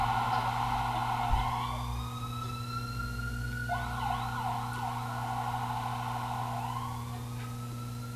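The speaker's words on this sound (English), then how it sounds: "Once the siren's gone, but you can hear my question." An emergency vehicle siren wails outside, its rising and falling tone fairly distant and faint over a steady low hum, with no talk.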